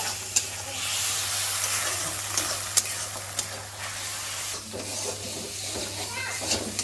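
Spice paste frying in a pan for a jackfruit curry, a steady sizzle with stirring scrapes and small clicks, while someone talks quietly over it and a low hum runs underneath.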